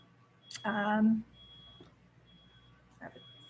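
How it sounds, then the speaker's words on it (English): A timer goes off in a room during a talk, a faint steady high beeping that runs through the clip beneath a brief louder burst of voice and room noise. "There's a timer going off."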